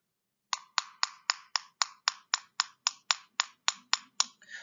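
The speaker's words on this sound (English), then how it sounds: "that isn't the sound of glass." Fourteen quick, sharp clicks from tapping a plastic pocket watch, evenly spaced about a quarter second apart, close and fairly quiet, with no voices.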